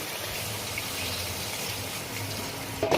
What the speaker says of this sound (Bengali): এরপরে আমি একটু জল অ্যাড করব